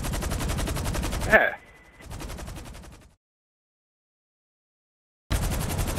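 Enemy gunfire from GTA Online breaks out in a dense burst over roughly the first second and a half, mixed with a brief spoken word. A quieter rattle follows before the sound drops to silence, and then loud shooting returns at the end.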